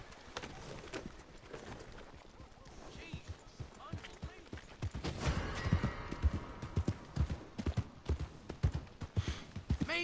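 Horse hooves clip-clopping in Red Dead Redemption II, irregular hoofbeats that grow louder and quicker midway, over a busy ambient background.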